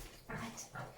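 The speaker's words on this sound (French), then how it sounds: "Bon, les bruits bizarres, c'est mon chien derrière." Flat-nosed dog snorting and whimpering nearby, two short nasal bursts in about a second, faint and close with no talk.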